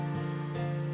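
Rain pounds a roof in a video game, a steady, even patter over a low, sustained tonal hum.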